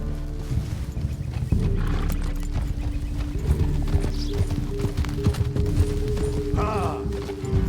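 In Red Dead Redemption 2, a horse's hooves clip-clop steadily as it is ridden along, mixed with creaking tack, ambient wilderness sounds and a brief whinny near the end.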